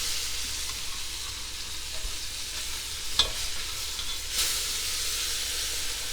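Floured pieces frying in a pan with pan drippings, a steady broadband sizzle and hiss running throughout, with a couple of brief louder crackles or stirs midway; no talking.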